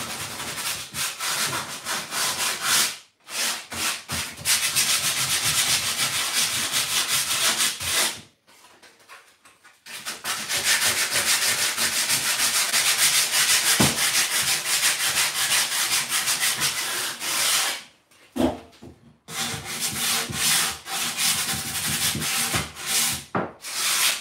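Wood being hand sanded in preparation for decoupage: loud, steady back-and-forth abrasive rubbing in long continuous passes, broken by a few brief pauses and a longer gap midway.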